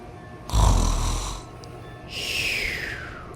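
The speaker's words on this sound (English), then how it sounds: "I've never heard him snore like that before" A sleeping boy snores loudly, one long rasping in-breath followed after a pause by a second drawn-out snore with a falling whistly tone, close and with no talk.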